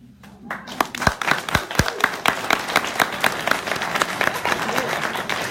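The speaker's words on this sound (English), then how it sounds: "We'll give you a round of applause." Audience at a veterans' congressional candidate forum claps for elected officials, sharp individual claps building into a dense round of applause in a room, with some voices underneath.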